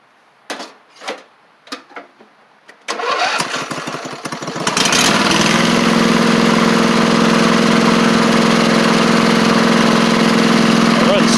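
A Briggs & Stratton V-twin on a Poulan Pro (Craftsman) riding mower with a loud muffler clicks and cranks a few times, catches, then settles into a steady, close, loud running drone.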